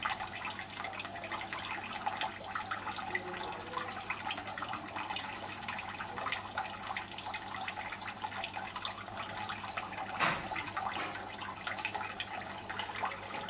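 Water trickles steadily into an aquaponics grow bed as it fills ahead of a siphon flush, a continuous close drip-and-splash wash with one brief louder splash near the end, no voices.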